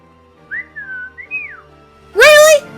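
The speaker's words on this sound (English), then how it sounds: "Taunting me with your whistling again?" A person whistles a short sliding two-part phrase, fairly close and clear, then a louder, harsher burst of sound follows at the end.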